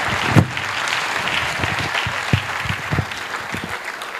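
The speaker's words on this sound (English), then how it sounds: "Let's clap our hands one more time in honor of the Almighty God." An audience at a public lecture claps steadily for several seconds, a dense, close patter of hands with a few sharper individual claps standing out, no talk over it.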